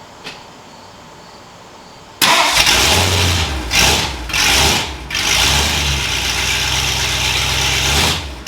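A restored Ford Galaxie 500 V8 fires up on its first start after restoration, then runs loud and rough up close, with revving swells before it settles into a steady idle.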